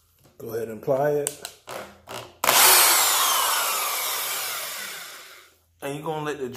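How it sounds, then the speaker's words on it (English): A step cone drill bit bores through a cymbal in one loud, sustained grinding whine lasting about three seconds, tapering off at the end, with speech before and after. "you're gonna let the drill bit do its thing"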